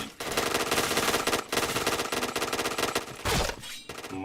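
Rapid automatic gunfire in the shooter game Point Blank, dense loud bursts of machine-gun shots in quick succession, broken by a few brief pauses.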